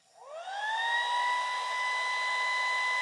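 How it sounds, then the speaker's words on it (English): A hairdryer switches on and spins up, its whine rising in pitch over the first half second, then settles into a steady, even blowing hum with no talk. "I would use my hairdryer."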